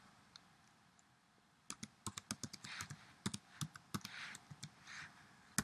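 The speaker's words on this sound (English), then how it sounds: "I'm just going to maybe type in a couple of things." Fingers type on a computer keyboard in a quiet room, a quick irregular run of crisp key clicks that starts after a near-silent pause and continues faintly and steadily.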